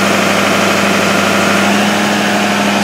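A Ford 6.7 Powerstroke diesel engine runs during a key-on engine-running test, giving a steady, loud idle drone with a constant low hum and no change in pace.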